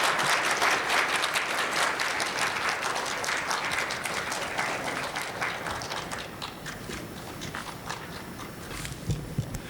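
An audience at a chemistry society meeting bursts into dense, sustained clapping that gradually thins and fades toward the end, leaving scattered individual claps.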